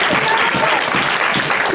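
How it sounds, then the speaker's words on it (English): Church congregation clapping in praise during a sermon on Isaiah, a loud, close burst of many hands with faint voices mixed in. "Give the Lord a hand clap of praise."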